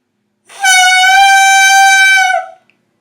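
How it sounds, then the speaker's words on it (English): A bassoon reed crowed on its own gives a loud, steady, reedy squawk for about two seconds, buzzy and bright like a small horn, then stops abruptly. "we're going to begin warming up by crowing on the reed."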